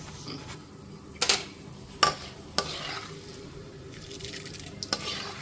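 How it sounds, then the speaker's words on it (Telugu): Tempering spices crackle in oil inside a large pressure cooker, a low sizzle broken by a few sharp metallic clinks of a spoon against the pot, with no talking. "వేగుతుంది పోపు"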